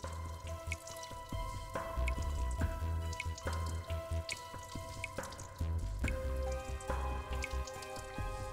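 Water drips steadily from a leaking toilet flush tank whose valve is missing, each drop landing with a sharp, close plink in a repeating rhythm, with no voices over it.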